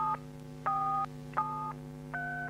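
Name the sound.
telephone keypad tones entering a password on TA2000 alarm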